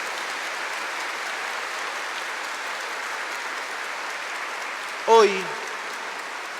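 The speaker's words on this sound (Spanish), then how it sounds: "Quiero brindar un fuerte aplauso a nuestra Madre Inmaculada Concepción" A church congregation at a Mass honouring the Immaculate Conception claps in sustained, even applause filling the space, broken briefly by a single shouted voice near the end.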